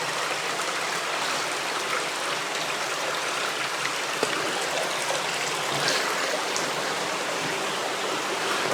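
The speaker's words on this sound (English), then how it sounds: "Nice little waterfall." A small waterfall in a cave stream passage splashes steadily, a dense, continuous rush of falling water close by with no talk over it.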